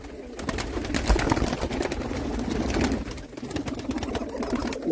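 A crowd of big-breed pigeons at a Jammu sale keeps up a continuous low cooing, many birds at once, close and fairly loud, with frequent sharp clicks and rustling from the cages.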